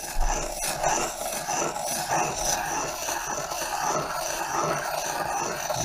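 A knife blade is honed in steady circles on the fine side of a UST sharpening stone, producing a continuous close, even rasping scrape at moderate level with no voices.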